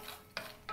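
Peanuts are stirred in hot oil in a pan for a poha chivda mixture, two soft, brief scraping stirs over a faint sizzle, quiet and close.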